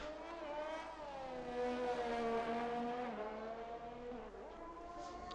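Race cars in a racing video game crest a hill on the Emilia Romagna circuit at Imola, engines droning in a steady high whine that rises and dips as they pass, loud and close, with no talk over it.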